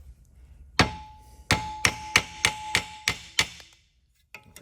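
Hammer blows driving rivets out of a VZ-61 sheet metal upper: about eight loud, sharp metallic strikes in a steady rhythm with a ringing tone, then a pause and a fainter final tap.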